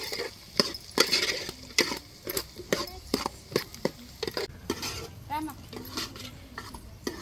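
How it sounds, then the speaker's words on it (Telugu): Drumstick pieces are stirred into mutton curry in a pot, giving repeated close clanks and scrapes of a spoon against metal in an uneven rhythm, with people talking at times. "ఇప్పుడు ములక్కాయ వేసుకొని బాగా కలిపి ఒకసారి మగ్గిచ్చేసుకుందాం నీట్గా"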